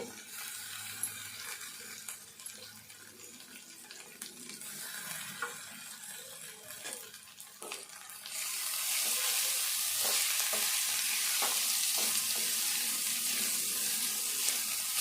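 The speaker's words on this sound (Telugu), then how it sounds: "పెసరపప్పును కూడా మంచిగా వేగనియాలి." Moong dal frying in a pan for an onion and moong dal curry, a soft crackle that swells into a steady, loud sizzle partway through, with occasional scrapes of stirring.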